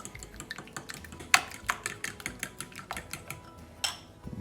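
Egg and golden syrup mixed together in a bowl for double ginger cookies, heard as a steady run of close, sharp clinks and taps of a utensil against the bowl, with a few louder knocks.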